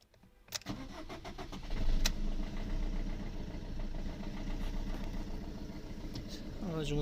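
A Fiat Linea engine cranks and fires on a newly copied key, then settles into a steady idle, with a brief whirr near the end; a voice may be faintly present.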